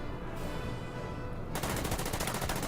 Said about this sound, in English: MG Foxholes takes a shot,